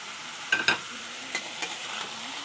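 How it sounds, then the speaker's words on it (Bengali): Ridge gourd, tomato and onion frying in a pan, a low constant sizzle broken by a few quick scraping stirs, close and fairly quiet. "ঝিঙ্গা টমেটো দিয়ে আমি এখন ভালো করে পেঁয়াজ দিয়ে ভেজে নেব"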